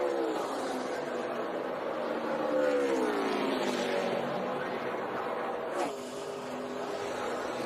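A race car on the final lap of the Brickyard 400 at Indianapolis, its engine a steady roaring drone with a rising pitch sweep and a brief shift near the end, with crowd and commentary noise blended underneath.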